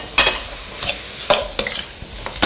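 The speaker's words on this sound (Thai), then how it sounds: "2ช้อนนี่ผงเห็ดแล้วก็เคล้าให้เข้ากันก่อนนะ" Ingredients for a Thai lemongrass chili paste with soy sauce, tamarind water and mushroom powder are stirred and mixed in a pan, a run of close, scraping strokes in quick irregular rhythm with light sizzle.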